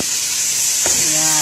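Tomatoes hit a pan of sautéing eggplant and onion, and a steady loud sizzle and hiss follow, with a brief stir or clatter partway through.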